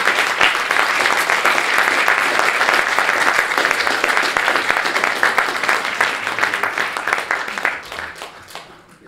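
An audience at a talk applauds steadily with dense, sustained clapping that carries on for several seconds before gradually thinning out and fading at the end.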